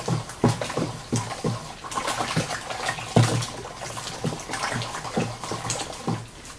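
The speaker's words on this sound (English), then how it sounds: "It's a bit thick, so I'm just adding a bit more water." Water being poured into a thick Shino pottery glaze mix, giving a steady, close splashing and sloshing broken by repeated irregular plops, with no talking.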